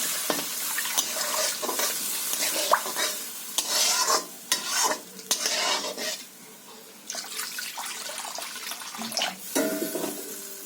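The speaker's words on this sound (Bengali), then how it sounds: "আমার মশলাটা কষা হয়ে গেছে আমি জল দিয়ে দিচ্ছি" Water is poured into a cooked-down spice paste for a tilapia fish curry, producing a loud wet sputtering hiss and rushing splash, with stirring scrapes and short pauses close by.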